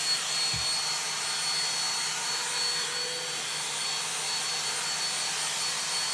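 An Auto XS cordless vacuum cleaner runs with a steady, fairly loud airy whine and hum, unbroken throughout, with a faint thump near the start.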